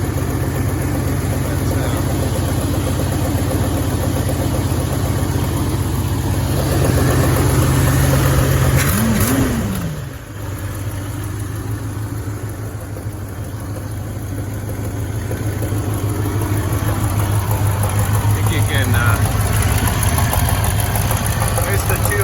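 A 1969 Cadillac De Ville V8 idles with two exhaust manifold bolts missing on the rear cylinder, a steady low rumble with a faint ticking leak, loud and close, with a brief rev in the middle and someone talking throughout.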